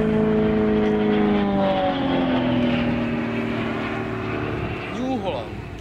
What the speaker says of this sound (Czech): Natáčím letadla.